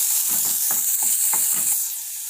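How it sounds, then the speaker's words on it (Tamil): Finely chopped medium-sized onions sauté in a pan with a constant close sizzle, while a spoon scrapes and stirs in several quick strokes and nobody speaks. "ஒரு மீடியம் சைஸ் வெங்காயத்தை சின்ன சின்னதாக கட் பண்ணிட்டு சேர்த்துக்கலாம் இதை நல்லா வதக்கிக்கலாம்"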